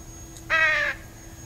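A single loud, harsh crow caw from the video game Trüberbrook rings out for about half a second over a faint steady background hum.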